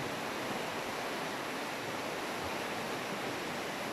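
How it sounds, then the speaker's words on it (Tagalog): A swollen river swept along by floodwater during a typhoon, roaring as a dense, steady rush of water that stays loud and unbroken throughout. "ngayon ay napaka takas na po ng current ng tubig dahil sa baha"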